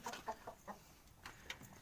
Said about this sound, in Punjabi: ਬਾਈ ਨੇ ਕੁੱਕੜ ਵੀ ਰੱਖ ਰੱਖੇ ਨੇ